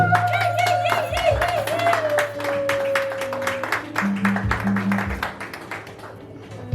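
Clapping and applause at a customary wedding ceremony, rapid and rhythmic from a crowd, heard under steady music with sustained tones throughout.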